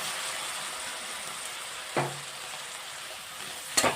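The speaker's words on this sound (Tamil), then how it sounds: "சோயா சாஸ் சேர்த்து நல்லா மிக்ஸ் பண்ணி விட்டுக்கோங்க" Chicken fried rice being stir-fried with soy sauce in a pan, a steady broadband sizzle with a couple of brief scraping stir strokes near the middle and end, no talking.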